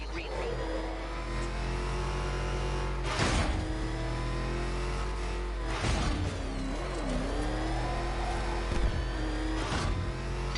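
A Batmobile engine in Batman Arkham Knight drones steadily, rising into loud revs and whooshing surges a few times.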